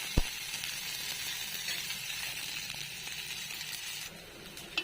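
Onion, ginger, garlic and masala roast in a pan for a brinjal curry, giving a soft, even sizzle with faint stirring scrapes and a sharp tap near the start and end.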